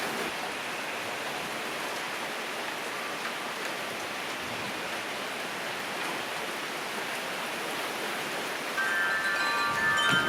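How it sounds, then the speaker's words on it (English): Rain falling outside during a storm, a steady, even hiss of drops at moderate level, with no other sounds standing out. "It's raining!"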